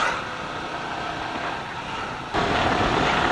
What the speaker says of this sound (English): The exhaust note has become a little grunty now, so you all will be enjoying that.